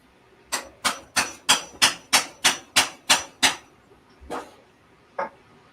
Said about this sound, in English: If you hear any banging in the background, my wife's doing a bit of dismantling